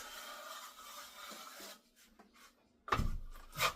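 A trowel scrapes drywall compound across a wall for a polish coat, a soft steady rasp that fades, then a few louder scraping strokes near the end.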